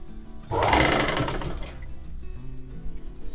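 Close and loud, a sewing machine stitches a half-inch folded seam on a reversible festive plate cover. A rapid whirring run of about a second is followed by a lower mechanical hum as it slows.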